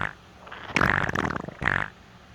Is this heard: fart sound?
yes